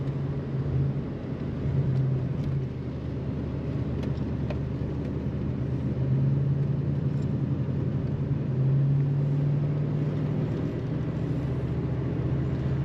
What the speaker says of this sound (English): Nice throaty sound from the exhaust of this car.